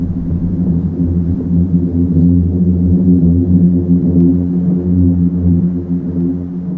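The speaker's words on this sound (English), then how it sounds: "The sound you're hearing is actually coming from within the dunes themselves." Singing sand dunes in Death Valley, sand layers sliding downslope, give a deep, steady bass boom with layered low tones, sustained and loud without a break.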